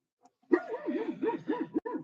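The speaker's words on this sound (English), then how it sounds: "My dog's barking." A dog outdoors in Homer, Alaska barks and yips close by, a quick string of wavering, whiny barks broken by a short pause, loud and alone.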